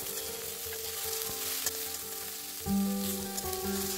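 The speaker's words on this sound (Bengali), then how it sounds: "সবজিগুলোকে হালকা করে ভেজে নিতে হবে, আর গ্যাসের আঁচটা মিডিয়াম আঁচে থাকবে।" Chopped onions and vegetables fry on medium gas heat with a continuous sizzle and occasional stirring scrapes, and the sound briefly swells near the end.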